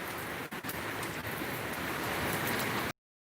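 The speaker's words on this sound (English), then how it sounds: "Memphis, a lot of rain" Steady rain falls outdoors in the Dominican Republic, a dense, even hiss with a couple of brief dips, then cutting off abruptly near the end.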